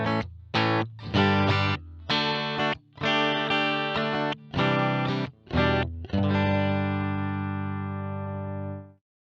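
Clean electric guitar chords from a Boss GT-1 using its JC-120 preamp model, strummed and picked in short bursts, ending on a long ringing chord that slowly fades; bright, full tone with no talking.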